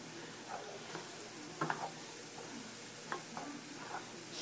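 A spoon stirs sloppy joe meat sauce in a pan, giving faint scraping and sizzling with a few soft clicks of the utensil against the pan, quiet and close with no talk.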